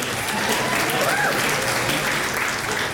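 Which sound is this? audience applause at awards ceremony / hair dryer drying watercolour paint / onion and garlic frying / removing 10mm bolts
audience applause at awards ceremony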